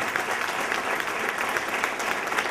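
An audience at the closing of an international coaching conference claps in a continuous, even wash of applause, moderately distant and with no voices standing out.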